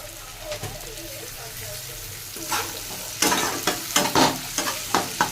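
Chickpeas sizzle gently in a pan, joined partway through by bursts of scraping and stirring that grow more frequent.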